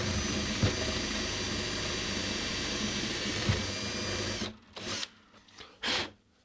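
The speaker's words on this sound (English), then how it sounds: "enlarge that hole a little bit." A power drill enlarges a hole in a guitar, a loud sustained whine close by for several seconds, then stops and gives a few short bursts.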